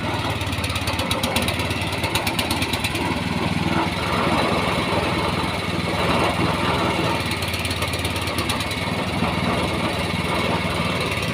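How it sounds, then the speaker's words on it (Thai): A small 9-horsepower single-cylinder Honda petrol engine drives a pile driver, running steadily and loudly throughout, with a rattling mechanical chatter and rhythmic knocking over the continuous drone. "เครื่องเทสเสาเข็ม หรือว่าปั้นจันนะครับ"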